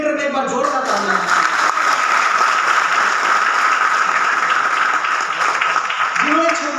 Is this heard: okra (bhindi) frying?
no